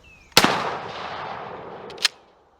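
Two loud blasts from a Mossberg 500 pump shotgun firing 3-inch shells outdoors, each a sharp boom followed by a long fading echo.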